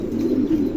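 Pigeons coo in a low, steady murmur that lasts under a second, close and fairly loud, at a pigeon seller's place with no talk over it.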